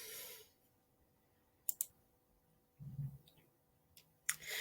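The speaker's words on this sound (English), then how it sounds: "you right click on the image, and then you can detach, right clicking, detaching" A few sharp, sparse computer mouse clicks during Canva editing, isolated and quiet in a hushed room, with a soft low thump in between.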